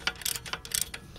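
A wrench turns the axle bolts on a 1981 Honda 185S motorcycle, giving a handful of quick metallic clicks and ratcheting ticks in close, uneven bursts over about a second, fairly faint and with no talk.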